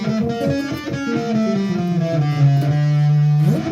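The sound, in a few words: harmonic minor scale played for a Doom riff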